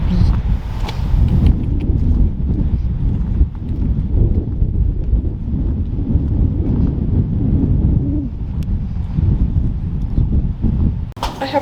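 Strong wind buffets a microphone outdoors on a windy day beside an ex-racehorse, a loud continuous low rumbling roar that persists for about eleven seconds with no let-up.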